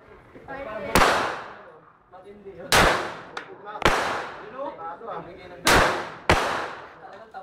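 Gunfire at a firing range: five sharp, loud shots spaced irregularly over several seconds, each with a ringing tail, while people talk between them.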